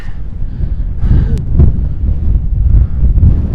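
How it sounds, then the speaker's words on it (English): Strong wind roars and buffets the microphone in loud, low gusts on top of Sheeps Tor in Dartmoor, continuous and close, with a brief faint squeak partway through. "This is the top. Very windy."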